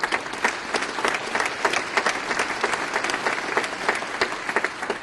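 A theater audience applauds Senator Elizabeth Warren at the Wadsworth Theater, with sustained dense clapping from a large crowd, steady and loud, and no speech over it.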